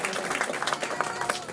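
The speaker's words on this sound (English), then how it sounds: "Everybody applaud for Elizabeth." A short burst of audience applause for a volunteer at a small magic club show, scattered claps fairly close by, with a voice faintly mixed in.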